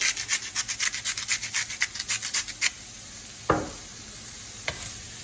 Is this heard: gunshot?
no